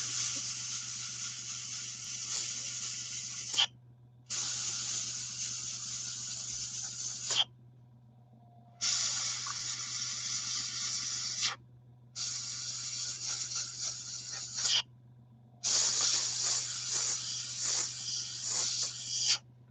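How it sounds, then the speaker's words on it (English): An airbrush spraying paint on model Sdkfz 251 half-tracks, a series of sharp airy hisses in bursts of a few seconds separated by short pauses, over a low steady compressor hum. "about getting control of your airbrush as much as anything else"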